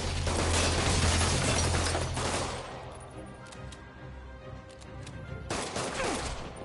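Bursts of gunfire in a Spider-Man video game: a dense, loud volley of rapid shots for about two seconds, a quieter stretch, then another sharp burst at the end.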